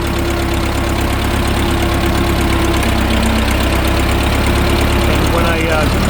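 A Case 420 backhoe's engine runs steadily as the machine drives downhill near a house, a loud, constant low diesel rumble with a rhythmic knock throughout.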